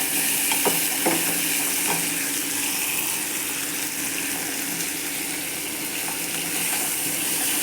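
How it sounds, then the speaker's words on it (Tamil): Tomatoes with turmeric are stirred around a hot pan for a capsicum gravy, a steady broadband sizzle running throughout with a few soft scraping strokes near the start, close and fairly loud, no voices. "நல்லா கலந்து விட்டுக்கோங்க தக்காளியை"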